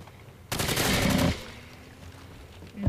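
A loud burst of automatic gunfire from an old shooter video game, roughly a second of rapid shots, followed by quieter game ambience and a faint sound at the end.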